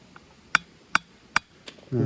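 Hammer blows striking something hard while a board sign is being nailed back up, three sharp evenly spaced knocks at close range with a fainter fourth, followed by a burst of muffled noise.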